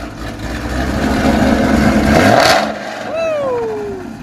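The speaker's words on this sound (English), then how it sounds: "I give a little rev." Ford GT500 with a Ford Racing Sport axle-back exhaust revving up, a loud rising engine roar that peaks then drops off, followed by a falling deceleration note as the revs settle, with a voice speaking near the end.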